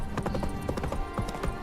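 Horse hooves clip-clopping in the Witcher 3 video game, a quick steady trot of close, distinct hoof strikes with a brief whinny-like undertone and no talk.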